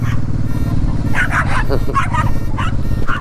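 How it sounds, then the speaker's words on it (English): A dog barks and yips repeatedly nearby in quick bursts over a steady motorcycle engine hum on an urban street, with a person talking in between. "The dog's going to eat me."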